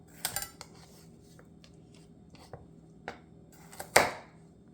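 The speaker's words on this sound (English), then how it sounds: "We're going to cut the carrot in half." A knife cuts through a carrot on a cutting board: a few sparse, sharp clicks and taps spread over several seconds, ending in one louder thud as the blade strikes the board, close and alone.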